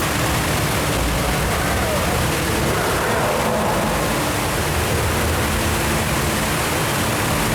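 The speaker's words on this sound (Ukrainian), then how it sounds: "Зараз ми з вами знаходимося на початку маршруту біля витоку водоспаду The Falls." Loud, continuous broadband roar of the indoor artificial waterfall in the Cloud Forest at Gardens by the Bay, Singapore, a steady rushing wash heard up close with no clear speech.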